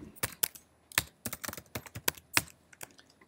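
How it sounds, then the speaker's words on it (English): Rapid typing on a computer keyboard while coding, with irregular bursts of sharp clicks and key taps, close and fairly quiet, with no talking. "Was a lot of typing."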